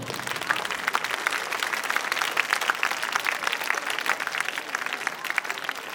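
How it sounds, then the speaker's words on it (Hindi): An audience claps at a school annual prize distribution and cultural ceremony, a brisk continuous round of many hands with distinct sharp claps poking through a dense wash, fairly even in level throughout. "ये जो तालियां बजा रहे हैं"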